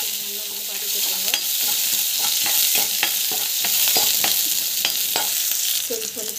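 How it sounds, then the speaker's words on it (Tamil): Small shallots, garlic and chana dal sautéing in oil, a bright steady sizzle punctuated by repeated sharp spatula clicks and scrapes against the pan, with no speech. "சின்ன வெங்காயம் பூண்டு கடலைப்பருப்பு நல்லா வந்து வதக்கிடுங்க."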